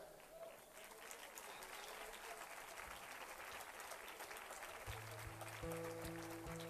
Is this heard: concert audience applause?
yes